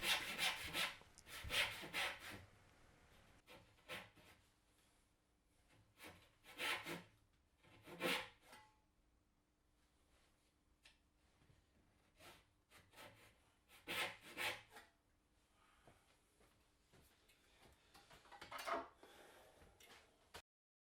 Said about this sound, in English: I prefer to cut most of it out and then just chisel down to the knife wall